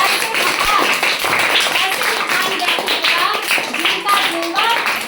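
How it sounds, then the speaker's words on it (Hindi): Audience at a school assembly claps loudly and steadily for several seconds, with children's voices chattering underneath. "तो एक बार जोरदार ताली बजाइए"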